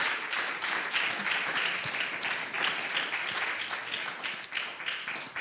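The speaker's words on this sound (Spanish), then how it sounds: "Démosles aplauso al Señor en esta hora." Steady, dense applause from a congregation during a Spanish-language church service, loud and sustained throughout with no clear speech over it.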